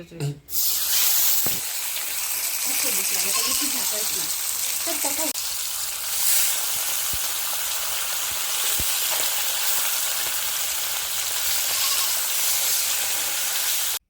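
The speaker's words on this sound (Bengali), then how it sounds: "এখন আমি মানে মাছটা একটু ফ্রাই করলে তোমরা দেখো" Fish sizzles loudly in hot oil in a pan for a steamed fish dish, with a sharp splattering hiss right at the start settling into continuous close frying, occasional clinks, and a voice speaking over it early on.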